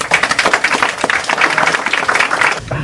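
A crowd applauds in welcome for Dr. J. Russell Ross, dense steady clapping from many hands close by, sustained throughout before fading near the end.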